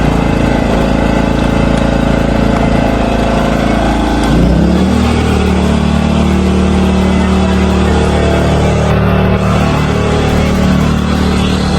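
Petrol generator, a 3000-watt genset charging an electric car, running loud and close with a steady engine drone that shifts pitch as the RPM is raised midway.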